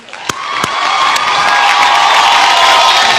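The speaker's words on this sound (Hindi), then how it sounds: "जोरदार तालियां।" A studio audience at a film award show in Mumbai bursts into loud applause and cheering that swells within a second and holds at a roaring, continuous level.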